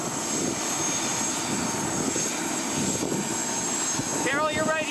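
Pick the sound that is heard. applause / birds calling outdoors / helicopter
helicopter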